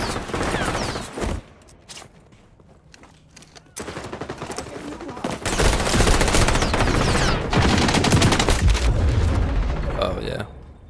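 Rapid bursts of AK rifle fire in a video game, loud repeated volleys with short pauses between them and booming impacts mixed in.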